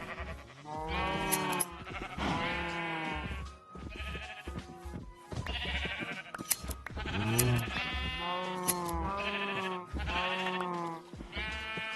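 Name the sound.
sheep bleating in a video game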